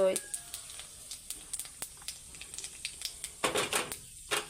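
Panch phoron spices hitting hot mustard-style frying oil in a kadai, giving a faint crackling sizzle with scattered pops and small clicks, under low background noise.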